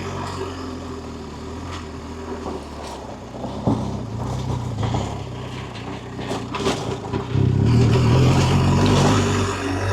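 A BMW R1250GS adventure motorcycle climbs a rocky dirt trail up Santiago Peak. The engine drones steadily under crunching gravel and clattering stones, and it grows louder and more strained near the end.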